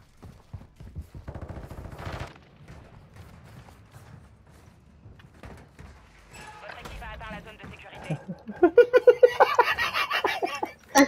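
Rapid gunfire bursts from the Call of Duty Warzone video game, sharp and clustered late in the clip, with players talking throughout.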